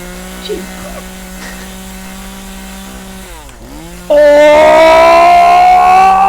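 A chainsaw wielded by a man in a Backrooms video game roars loudly and steadily, its pitch wavering, after a droning siren-like tone that dips and shifts before the saw kicks in.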